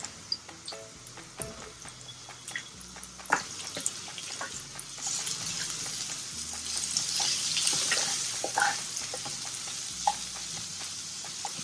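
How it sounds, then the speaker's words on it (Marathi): Turmeric sautéing in hot oil for Puneri misal, a steady close sizzle with scattered stirring clicks and scrapes across the whole stretch, swelling louder midway; no one speaks. "आपण हळद परतून घेऊया"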